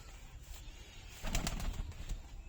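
A Giribaz-line pigeon coos in a soft, low, throaty run close by, with a brief flutter of wings and faint chirps around it in a quiet setting.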